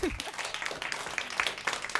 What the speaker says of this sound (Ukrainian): Якісь у вас надто сумні оплески